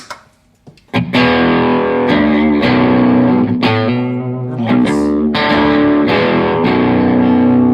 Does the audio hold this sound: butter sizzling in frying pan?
no